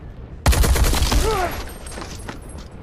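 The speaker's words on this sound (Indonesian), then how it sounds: "Tom yang mau melarikan diri berhasil ditembak oleh Jacob." A rapid burst of gunfire erupts in an action film shootout, a dense volley of loud close shots with ricochet-like whines that tapers into scattered echoing reports, with a voice speaking over part of it.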